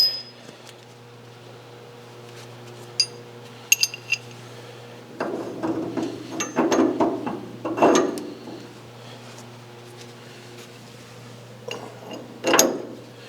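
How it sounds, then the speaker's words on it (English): Vehicle bolts get their threads cleaned with a thread chaser during a DIY repair, heard as scattered metallic clicks and ratcheting bursts, louder between six and eight seconds, over a low steady hum. "I just wanted to go and chase the threads on these bolts quick."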